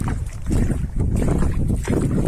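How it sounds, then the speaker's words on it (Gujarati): Strong coastal wind roars and buffets the microphone nonstop during crab trapping, a heavy, rumbling gust noise filling the whole moment. "પવન બહુ છે પવન"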